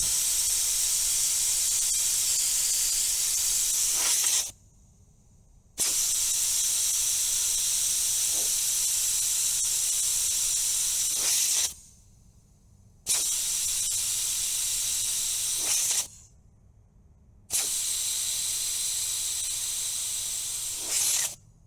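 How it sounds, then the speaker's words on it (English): Air hisses loudly and steadily out of a tire through an open valve stem during a rapid air-down, in four long bursts separated by short silent pauses. "So now it is absolutely dumping air pressure out, and this is why this is the fastest way to air down tires."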